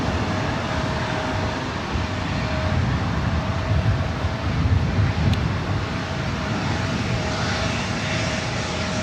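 Jet engines roar at LAX airport in a steady, loud, broadband rush with a faint high whine, close and sustained for several seconds with no voices over it.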